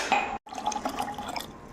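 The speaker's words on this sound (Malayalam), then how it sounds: "വെള്ളം 2 ഗ്ലാസ് വെക്കും." Water is poured into a mixer jar over pomegranate pieces for juice, a close, soft splashing trickle with faint glassy clinks, broken by two brief silences.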